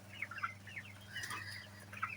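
Chickens in a tin-roofed poultry house cluck in a run of short, moderately quiet calls, several birds overlapping over a low steady background hum, with no talking.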